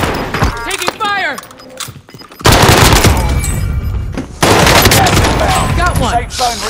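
Rapid automatic gunfire from Call of Duty: Modern Warfare, a loud, dense fusillade of shots with breaking and impact sounds, broken by short pauses, with game voice lines and talk over it.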